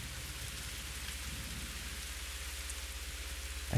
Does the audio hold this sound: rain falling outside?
yes